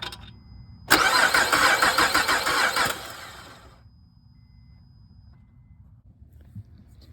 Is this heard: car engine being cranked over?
yes